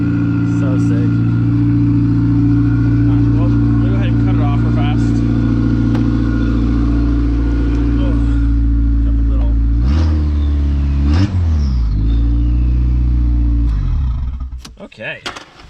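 Turbocharged Volkswagen Golf engine idling loudly up close, with harmonic engine tones, a couple of throttle blips that rise and fall near the middle, and the engine fading toward the end; a person talks briefly over it.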